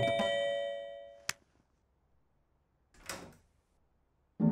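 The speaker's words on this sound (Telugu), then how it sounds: "కాలింగ్ బెల్ మోగుతోంది, ముందెళ్ళి డోర్ తీయండి" A household doorbell rings with a bright sustained chime that fades out, followed by a sharp click and a muffled door-like knock or thud later in an otherwise quiet room.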